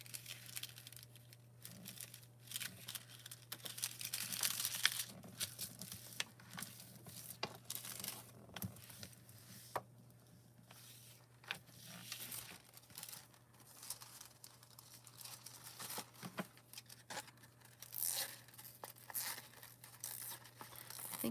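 Scissors snip the jagged edges of thin plastic foil, crisp crinkling in a series of short irregular cuts and rustles, close up, with a steady low hum underneath.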